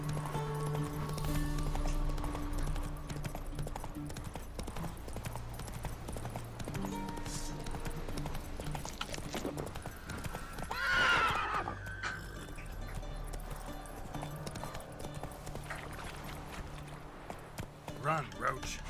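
Roach the horse gallops in The Witcher 3: Wild Hunt, hoofbeats drumming steadily under ongoing game sound and talk, with a clear neigh partway through.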